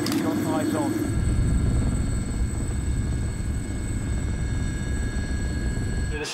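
A military helicopter in flight gives a loud, steady rotor and engine rumble that fills the whole stretch, with a brief voice-like sound near the start.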